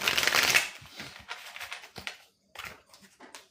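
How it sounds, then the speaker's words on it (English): Tarot cards are shuffled close up, a dense riffle at the start followed by scattered soft slaps and flicks of cards with brief pauses, and no speech. "One more to shuffle, sorry."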